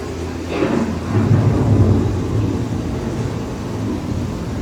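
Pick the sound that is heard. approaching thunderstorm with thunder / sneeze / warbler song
approaching thunderstorm with thunder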